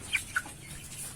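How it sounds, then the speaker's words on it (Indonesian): A hen in a backyard coop after a flood gives two or three short, soft clucks in quick succession over a quiet background. "Ini ayam betina."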